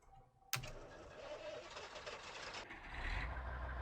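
An old, roughly 50-year-old truck engine in Farming Simulator 19 turns over with a sharp start, then idles steadily at close range, a rough mechanical rumble with a deeper low growl swelling near the end.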